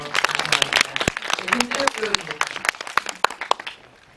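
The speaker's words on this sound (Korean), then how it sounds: "여러분 박수 감사합니다." Audience applause at a Korean film screening and guest visit at CGV Apgujeong for the film "두개의 연애", a dense patter of many hands clapping steadily and loudly, tapering toward the end, with voices talking over it.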